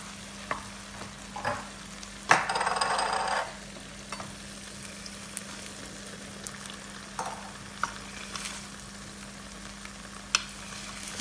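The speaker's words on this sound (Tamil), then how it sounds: "இப்போ நான் 25 நிமிஷம் மேலே கிண்டி கொண்டு இருக்கேன்" Thick thothal sweet is stirred in a pan as butter separates, quiet scattered scrapes and soft bubbling with one brief louder burst of sizzle near the start.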